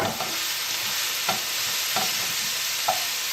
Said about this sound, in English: sauteed a large sweet onion, minced, diced pretty fine, and a couple of tablespoons of extra virgin olive oil